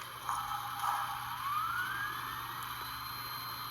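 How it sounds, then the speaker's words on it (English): A faint rising whine that sweeps upward and holds steady over a constant low electrical hum, quiet and close, from the dynamo sound of a Bachmann HO 4-4-0 model locomotive. "Function 10 turns on the light and plays a dynamo sound."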